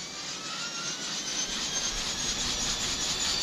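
A model aircraft engine, on a whirligig flying creation, roars steadily at takeoff, a continuous high buzzing drone at moderate volume with no voices over it.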